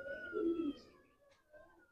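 Pigeons, including black and red Chinese breeds, coo softly in a single low, rolling phrase with a faint chirp after it, with no talking.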